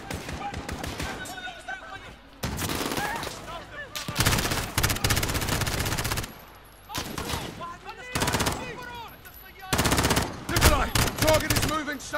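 Gunfire in Call of Duty: Modern Warfare comes in repeated rapid automatic bursts separated by short lulls, loud and close, with chaotic game battle noise around it.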